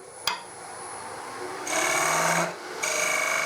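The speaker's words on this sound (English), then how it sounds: "So, skew chisel to mark those out." Skew chisel cutting into turning wood to mark out shoulders, a brief tap followed by bursts of bright scraping and hissing cuts, close and fairly loud, with pauses between passes.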